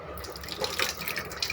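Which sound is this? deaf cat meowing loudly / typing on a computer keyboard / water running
water running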